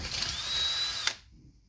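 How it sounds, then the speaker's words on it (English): A DeWalt cordless drill running low on battery whines steadily, its pitch sagging slightly as it strains, then stops abruptly, leaving a faint quiet tail. "Sounds like my drill is running out of gas."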